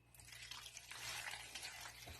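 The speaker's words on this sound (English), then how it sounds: "I'm just going to put the strainer over this bowl and pour this into it." Liquid poured through a kitchen strainer into a bowl, a steady close splashing and trickling stream that builds, then thins near the end, with no talking.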